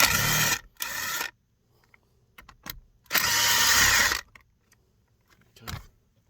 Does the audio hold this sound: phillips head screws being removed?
yes